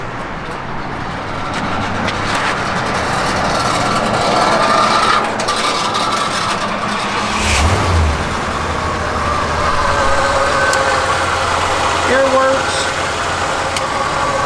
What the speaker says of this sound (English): car runs and drives just as sweet as can be.